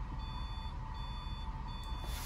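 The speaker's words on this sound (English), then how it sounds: "When it's locked, you can hear the buzzer." A buzzer on a student-built electronic lock, an electronics and instrumentation course project, sounds as the lock engages: three evenly spaced high-pitched beeps, each about half a second long, heard clearly over a steady low background hum with no talking.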